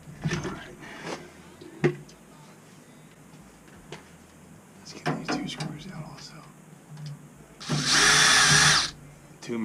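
A power drill whirs in several short bursts, the longest near the end, while removing the mounting screws from the circulator pump of a Navien combi boiler. Clicks and handling noises fall between the bursts, and a person talks briefly.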